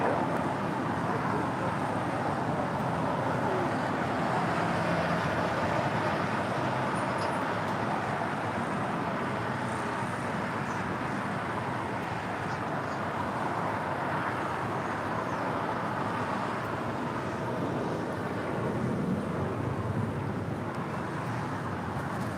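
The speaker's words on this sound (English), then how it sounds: "That was KLM Flight 602 heading back to Amsterdam." KLM Flight 602, an airliner departing LAX for Amsterdam, gives a steady broadband jet roar that holds loud and constant throughout, with wind-like rushing and no distinct breaks.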